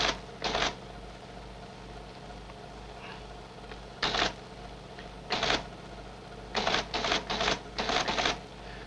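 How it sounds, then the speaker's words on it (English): A computer terminal on an early scientific computing system types back data about a running prime-number program, heard as several short bursts of clattering printing separated by quiet pauses, with a cluster of rapid bursts near the end. "the computer is typing back some data about the program itself"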